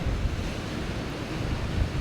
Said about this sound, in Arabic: واخا تحرك شويه ديال الريح